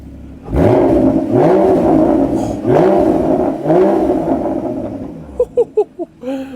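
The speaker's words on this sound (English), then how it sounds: "It's warmed up a little bit now, so let's go for a little rev." Porsche Cayman GT4, rebuilt after crash damage and warmed up, revved hard several times: loud, close rising and falling engine howls, then a quick series of short sharp blips.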